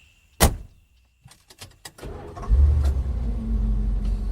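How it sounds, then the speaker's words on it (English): A car door slams once loudly, followed by a few smaller clicks and knocks as people settle in, then an engine turns over and settles into a steady, close rumble. "Dan and Alex got into the back of the young man's car."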